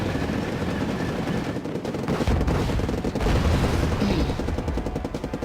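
Machine-gun and cannon fire rattle through a tank battle in the war strategy game Wargame: Red Dragon, a loud, dense, unbroken barrage of overlapping bursts and booms with no voices.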